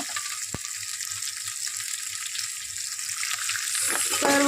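Onion roasting with spices in a pan for black rajma rice, a faint steady hissing sizzle with soft low thumps beneath, growing slightly louder toward the end.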